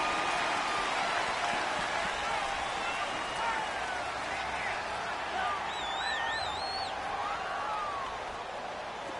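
Stadium crowd roar from a football video game on PS4, a steady loud wash of cheering and noise with whistle-like tones drifting over it throughout.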